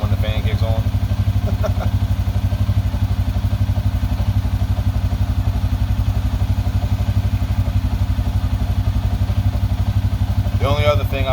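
A 2007 Suzuki King Quad ATV engine runs steadily close by, a constant throbbing drone with some mechanical clatter, and brief voices come in at the start and the end.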